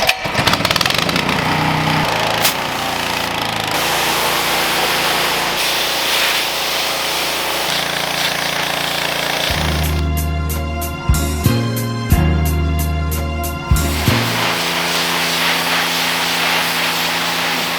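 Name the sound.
pressure washer spraying off window tint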